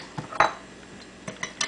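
A utensil scrapes and clinks against a 2-cup container of spring water in a few scattered, quiet strokes while making kimchi.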